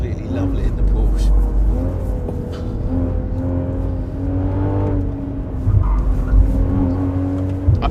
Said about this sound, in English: One, fantastic exhaust note. Two, instant throttle response.